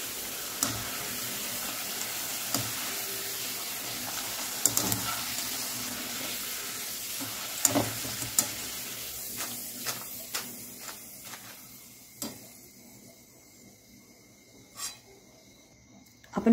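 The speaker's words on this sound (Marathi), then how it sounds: "तर चिप्स छान फ्राय झालेले आहेत" Potato chips frying in hot oil with a soft, steady sizzle that fades out over time, broken by occasional clicks and light knocks of a utensil.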